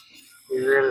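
A Campitos turquoise cabochon pressed against a spinning cabbing wheel gives a brief, steady whining grind that starts halfway through and holds for under half a second before fading.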